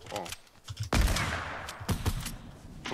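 Loud sniper rifle shot in a first-person shooter game, a sharp crack near the one-second mark trailing into a long decaying echo, followed by fainter shots, with people talking over the gunfire.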